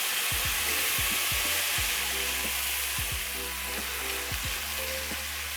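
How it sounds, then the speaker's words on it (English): Tomatoes cooking in a pan for a coconut mung bean stew give off a constant bright sizzle with faint tonal background sounds underneath, steady and close throughout with no voices. "And let the tomatoes cook until soft."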